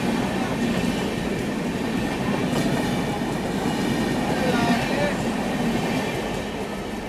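A Bharat Gaurav tourist train runs at speed after getting a green signal, heard from on board as a loud, steady rumble with rhythmic wheel clatter and faint squeals.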